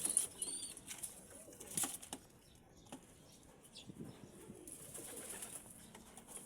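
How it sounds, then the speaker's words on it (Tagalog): Pigeons nearby give soft bursts of wing flapping and faint coos in a quiet space, the flutters clustered early and then fading into low background noise. "Ayan mga kalapatids, nanay nung puti."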